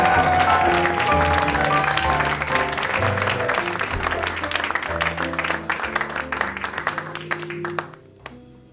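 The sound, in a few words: audience applause for the performers QuaQuaQua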